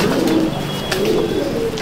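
A pair of old-breed Chapka Giribaz pigeons in a loft in Julpia, South 24 Parganas, cooing in low rolling murmurs, close and continuous over background noise.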